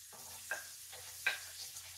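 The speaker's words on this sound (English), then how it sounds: "I'm going to just put that onion right on in that bacon grease" Onion frying in bacon and kielbasa grease over a lowered flame gives a soft, steady sizzle, broken by a few brief stirring scrapes and clinks.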